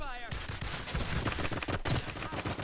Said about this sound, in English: You can keep shooting as much as you need to